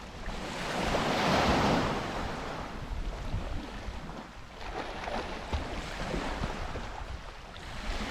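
Sea waves wash steadily onto the shore in a continuous rushing surge that swells and fades, with wind buffeting the microphone.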